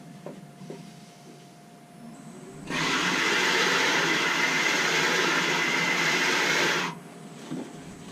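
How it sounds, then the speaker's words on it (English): An electric sander runs for about four seconds to flatten a glue-up jig, giving a loud, steady whine that starts and stops abruptly, with faint workshop noise before and after. "it's sanded flat now"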